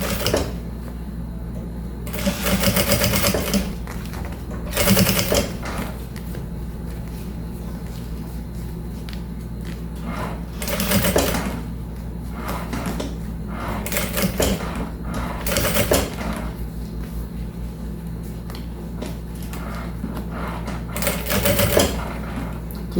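A sewing machine stitches bias binding onto a small zippered bag in short intermittent bursts, with quiet pauses between runs as the fabric is adjusted, over a low steady background hum.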